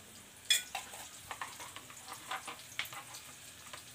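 Chopped onion frying in hot oil for a prawn curry, a quiet sizzle broken by soft crackles and scraping stir sounds in an uneven rhythm, heard alone without talk.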